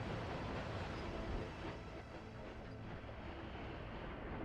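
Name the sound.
train passing in a video game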